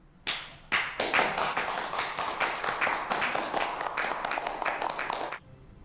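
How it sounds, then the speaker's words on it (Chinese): Applause from an audience at a company gathering: a burst of hand claps starting abruptly, then steady dense clapping for about five seconds before stopping sharply, with no talking over it. "鼓掌。"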